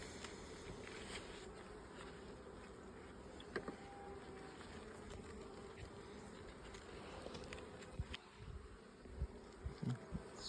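Buckfast honey bees buzzing steadily over hive frames during an inspection, a close, continuous droning hum with a few faint knocks and clicks.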